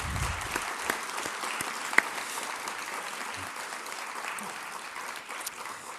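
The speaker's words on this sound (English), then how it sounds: "let's give Basil a big round of applause" Faint, distant applause from an audience at a gathering on combating human trafficking, a thin even patter of clapping that continues for several seconds with an occasional sharper clap.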